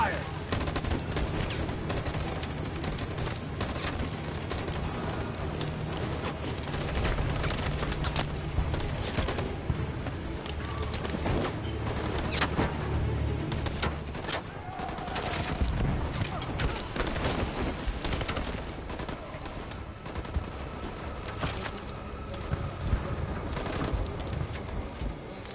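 Dense, continuous gunfire and bursts of shooting from the video game Detroit: Become Human, loud and sustained throughout with a busy, chaotic battle texture and no clear pauses.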